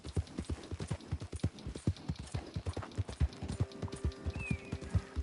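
Steady clip-clop of a ridden horse's hooves in Red Dead Redemption 2, a quick regular trot heard up close and alone, with a faint tonal whine rising near the end.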